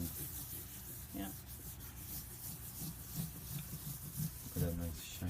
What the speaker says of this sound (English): And you rub it in with your hand.